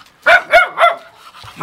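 A dog barks three times in quick succession, loud and close, ending in a short yip.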